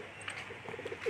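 A pigeon gives a soft, brief coo, faint and close, over a quiet background hum.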